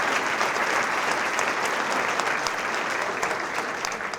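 Sustained applause from an audience honoring award recipients at a school recognition ceremony, a dense, even wash of clapping that holds steady and eases slightly toward the end.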